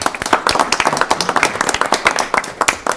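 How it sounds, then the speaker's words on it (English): Select Board members clap briskly after a proclamation praising the new Falmouth Peer Recovery Center, a dense, steady round of hand claps from a small group, close and loud throughout. "Members of the Select Board clapped after reading a proclamation in praise of the newly opened Falmouth Peer Recovery Center."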